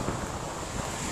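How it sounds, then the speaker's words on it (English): Steady wind roars across an Alaska campground, a broad continuous rush buffeting the microphone with slight gusts and no other sounds. "It's almost too windy here."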